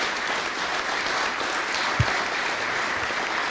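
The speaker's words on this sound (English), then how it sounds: "Can we have a round of applause" A crowd at a mayor's press conference claps steadily in sustained applause, a dense even patter of many hands, with a single low thump midway.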